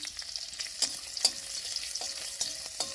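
Whole garlic cloves and a little ginger fry lightly in a pan, giving a steady, close sizzle with soft crackles and a few sharp spatters.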